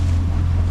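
A small boat motoring through choppy waves on Big Lagoon in Florida, a steady low engine drone mixed with wind rush and water noise, close and loud.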